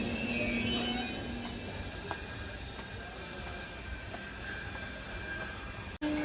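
Train standing at a railway platform on a journey from Muzaffarpur to Guwahati, heard as a steady broad rumble and station hum that holds throughout, with faint clanks and a brief cut near the end.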